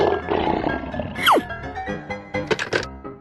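Lion roar used as a video game sound effect, a single loud, dropping growl in the middle of a busy stretch of game music and effects with other thuds and whooshes around it.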